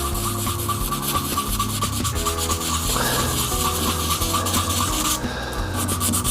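Close, steady hand sanding with sandpaper on a resin-cast shaving brush handle, a continuous dense rubbing rasp with no pauses.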